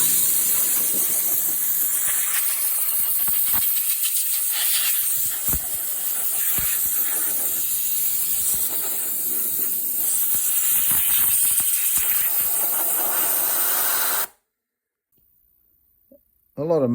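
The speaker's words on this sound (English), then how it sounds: "So just with the airline, I'm going to give it a quick once over." A compressed air line blasts dust off a Bailey Pegasus caravan's Whale heater with a loud, continuous, close hiss for about fourteen seconds before cutting off to near silence.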